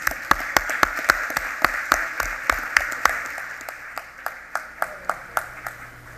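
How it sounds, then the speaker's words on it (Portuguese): An audience at a good-practices showcase event applauds colleagues receiving participation certificates. Distinct, sharp claps ring out in a loose rhythm over a softer bed of scattered clapping, and the sharp claps thin out toward the end. "Palmas para os nossos colegas."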